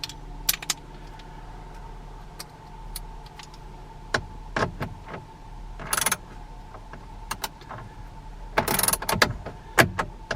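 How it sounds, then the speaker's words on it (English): Metallic clicks, jingles and short ratchety scrapes from removing the bolts holding a car head unit during an Android stereo installation, scattered bursts over a steady low hum, with no talking. "we now need to take the 4 bolts remaining out"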